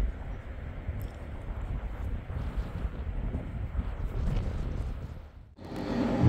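Strong wind gusting around an Ista Breeze I-2000 2000W wind generator, a continuous rumbling roar of wind buffeting the microphone with swells and a brief lull near the end.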